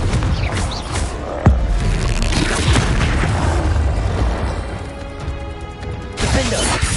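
A blasting-curse explosion from a Harry Potter video game, a sharp heavy boom that bursts out and then rumbles and crackles away amid ongoing game noise.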